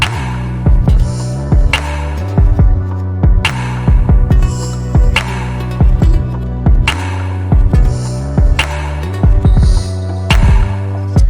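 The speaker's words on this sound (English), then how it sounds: "notice there's a snare and a clap, so I actually layered those two together" Layered snare and clap in an R&B beat produced in FL Studio, crisp bright hits repeating on a steady groove over booming heartbeat-like kicks and a sustained bass hum.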